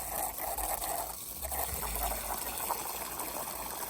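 Cold water gushes steadily from a hose or tap while plants are being watered, a continuous broadband rush with some splashing, close and fairly loud, with no voices.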